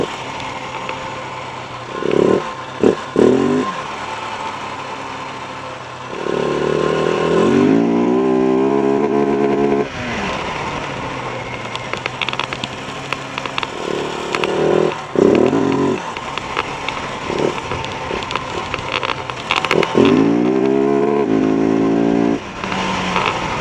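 A KTM 690 motorcycle accelerates hard in repeated pulls, its engine revving up close and loud through second gear. Each pull breaks off with a noticeable gap at the shift to third before climbing again.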